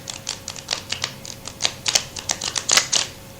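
Tarot cards are shuffled by hand in a quick run of crisp, dry snaps and flicks, close and fairly quiet, clustering more densely toward the end.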